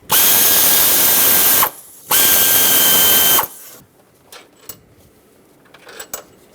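Power driver spinning a 10mm socket on the thermostat housing bolts of a 5.4L V8 Ford E-350, two loud whirring bursts with a short pause between, then faint clicks and handling noises.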